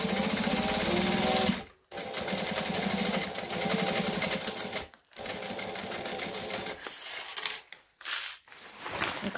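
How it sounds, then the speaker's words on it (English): A sewing machine back stitches fabric in loud, rapid mechanical bursts, stopping briefly three times between runs of whirring stitching. "I'm going to start at the last lot of stitching. I'm going to back stitch."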